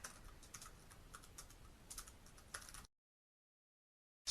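Fast, light keystrokes tapping on a computer keyboard while code is entered, soft and close, then breaking off into silence.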